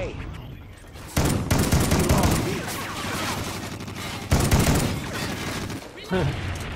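Rapid automatic gunfire in a multiplayer shooter video game, dense and continuous with loud bursts and overlapping shots, close and heavy, with a player's voice mixed in underneath.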